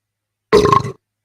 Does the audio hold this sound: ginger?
no